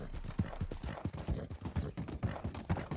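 Horse hooves clip-clop in a quick, even rhythm, sharp repeated knocks close by, continuing steadily throughout, in the video game Red Dead Redemption 2.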